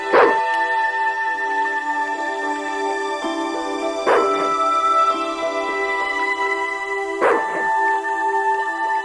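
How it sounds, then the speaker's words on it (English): Attack dog barking in the video game Broken Sword II, three loud, sharp single barks spaced about three seconds apart over a steady tonal game background, with no one talking. "Just remember, he's a trained attack dog."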